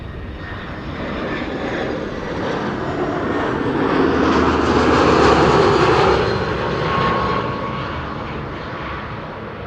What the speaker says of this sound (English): This is EasyJet flight 27854. It's an A319 arriving from Chester.